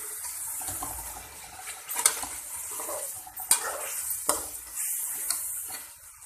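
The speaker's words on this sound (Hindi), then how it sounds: "और इसको अच्छी तरह हम भून लेंगे।" Yogurt and chicken being stirred and fried together in a pot for yakhni pulao, with a soft wet sizzle broken by repeated metal spoon clinks and scrapes against the pot.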